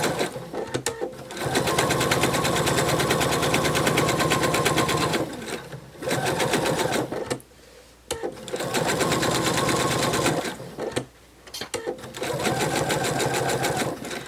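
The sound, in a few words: sewing machine stitching a narwhal plush seam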